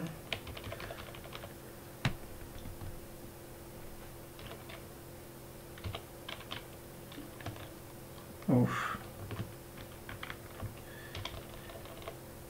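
Computer keyboard typing during a Django web development session, light irregular keystrokes scattered throughout with one louder burst of clicks near the end, fairly faint and close.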